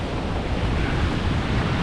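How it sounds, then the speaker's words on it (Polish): Large ocean waves break on a beach at Playa del Carmen, giving a dense, continuous roar of surf with some wind buffeting the microphone. "Przywitały nas ogromne fale."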